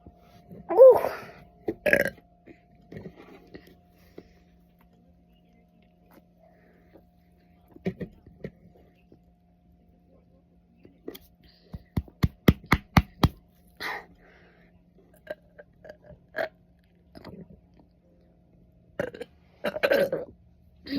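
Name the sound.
person burping repeatedly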